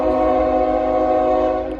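A train horn blares in one long, loud, steady sustained blast over the rumble of a passing train at a railroad crossing in Marion, Ohio.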